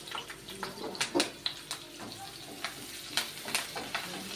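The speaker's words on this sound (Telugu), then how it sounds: "ఇవి బాగా వేపుకుందాము." Sliced onions, green chillies and curry leaves frying in a pan, giving a soft close sizzle broken by scattered crackles, pops and stirring clicks, fairly quiet, with no talk.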